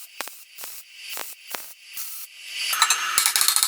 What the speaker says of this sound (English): here I am just stitch welding it